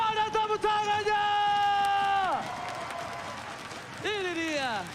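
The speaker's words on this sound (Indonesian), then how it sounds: "So, FPL Blue, mana tepuk tangannya?" An esports crowd at the MPL Indonesia Season 10 upper bracket final between RRQ and Onic cheers and applauds, with sustained whooping tones riding over the noise of the crowd, fading midway and then rising again.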